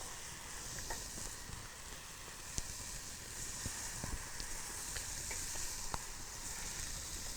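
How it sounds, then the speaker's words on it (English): Marinated grouse strips sizzle steadily on a charcoal grill, a continuous crackling hiss with occasional sharp pops, moderately loud and close, with no voices. "So what you want to do is just put those strips out on the grill."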